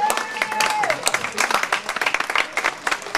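An audience gives loud, sustained applause for care home staff at a festival closing ceremony, with dense, rapid clapping throughout and a few voices in the crowd.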